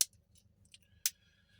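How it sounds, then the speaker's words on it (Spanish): Victorinox Cybertool scissors handled up close, two crisp metallic snips with faint light clicks between them against a quiet low hum. "Tenemos acá las tijeras de Victorinox, las que ya conocemos."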